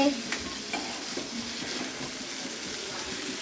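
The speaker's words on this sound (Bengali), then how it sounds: "এরপরে কিছুক্ষণ ওই নাড়িয়ে নিতে হবে, খানিকটা মশলাগুলোর সাথে একদম ভালোভাবে মিশিয়ে নিতে হবে" Chickpeas (chana) are stirred into spices in a pan, giving a close, steady sizzle with soft scraping and shuffling strokes that carry through the short stretch without talk.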